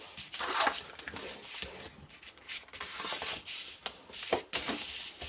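Paper sides of a handmade envelope punch board box being folded and creased, a continuous dry rubbing and crinkling with several sharper scrapes, close and fairly quiet, no talking.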